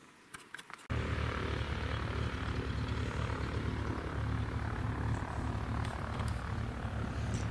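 Floatplane or bush aircraft at a staging lake in Alaska, readying to fly moose hunters out, its engine starting abruptly after a quiet moment and then droning loud and steady at close range.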